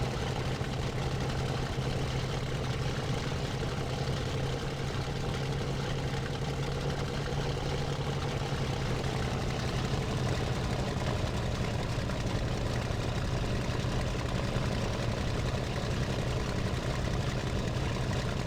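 Aircraft engine in the IL-2 Sturmovik flight game during takeoff, a steady dense drone with a low hum that holds constant throughout, without talk.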